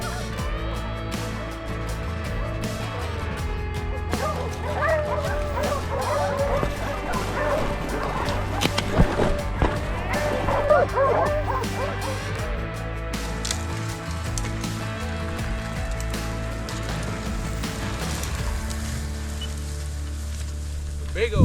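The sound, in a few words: hunting dogs baying at a cornered tomcat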